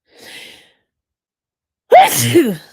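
A sharp, loud allergy sneeze bursts out after a faint breathy intake and a stretch of silence.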